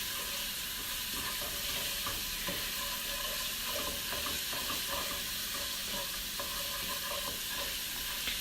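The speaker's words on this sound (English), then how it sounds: "I'm going to stir this and let that cook and get nice and fragrant" Aromatics sizzle steadily in a hot pan while being stirred, with continuous frying crackle and soft scraping throughout and no voices.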